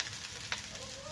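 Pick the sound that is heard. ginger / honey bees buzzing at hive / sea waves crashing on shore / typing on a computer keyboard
ginger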